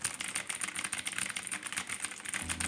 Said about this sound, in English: but it is a wired keyboard that is USB-C, which is going to be pretty nice